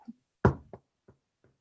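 Four knocks on a door during a live comedy show, a loud first rap followed by three fainter, evenly spaced taps, alone with no talk.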